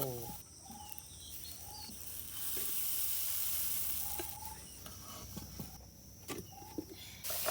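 Chili peppers dry-roast in a clay pan with a soft, continuous sizzling hiss, while birds chirp intermittently in the background and occasional light knocks are heard.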